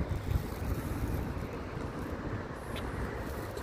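Wind blows steadily through an outdoor cemetery, a broad, rushing roar with gusty buffeting against the microphone, continuous and fairly quiet, with no talking.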